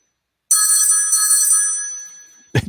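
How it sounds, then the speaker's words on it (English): An old-fashioned telephone bell rings once in a bright, sustained metallic trill that fades over about two seconds. A brief knock or clatter follows. "It just so reminds me of the phone on Andy Griffith."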